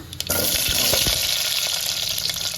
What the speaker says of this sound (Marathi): जिरे माऊली तडतडले की आपण कांदा टाकायचा